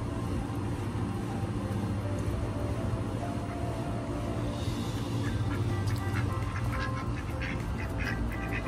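Ducks quack on a homestead over a steady, noisy outdoor background hum that stays at a constant level throughout.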